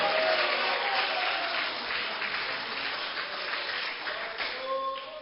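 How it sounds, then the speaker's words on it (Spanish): A church congregation claps together in sustained, loud applause during a sermon, a dense wash of hands that holds steady for several seconds and tapers slightly near the end, with no one speaking over it. "¿Cuánto pueden dar un aplauso a Cristo?"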